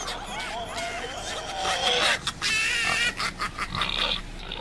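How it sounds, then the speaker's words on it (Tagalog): A pig oinks and grunts nearby in a series of short, loud snorts, mixed with voices and laughter. "Ay, may baboy."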